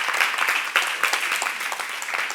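A youth group audience at a church Q&A claps together, a brief dense burst of applause that stays fairly even throughout.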